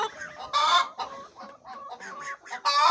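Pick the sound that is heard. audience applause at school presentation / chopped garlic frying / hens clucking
hens clucking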